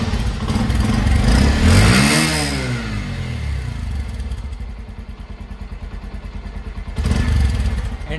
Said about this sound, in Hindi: एक बार आप इंजन नॉइस भी सुन लीजिए।